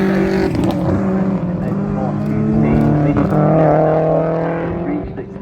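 A rally car drives a special stage at the McRae Rally Challenge while chasing a Mitsubishi Evo, its engine droning and changing pitch loudly and continuously, with no speech.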